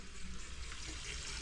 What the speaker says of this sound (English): You can just add water.